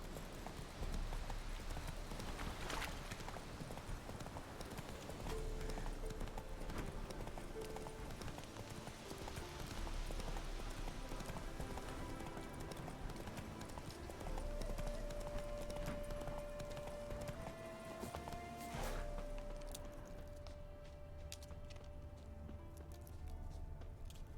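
A horse's hooves clip-clop at a steady gallop in Stardew Valley, a continuous rhythmic patter of game footsteps over a quiet background hum, with a brief tonal chime partway through.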